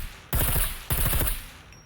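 A silenced rifle in the video game SCUM fires two quick full-auto bursts back to back, each a loud, rapid string of suppressed shots, with no talking.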